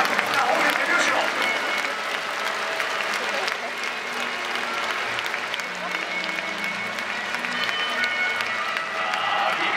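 A large crowd claps along steadily and continuously at a mascot contest in Sapporo Dome, dense applause with cheering mixed in, loud and close, with an announcer's voice running over it.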